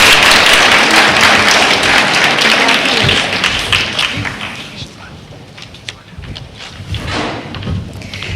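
A graduation ceremony audience applauds, starting as a loud burst of clapping that fades into scattered claps, with a few thumps and voices speaking under it.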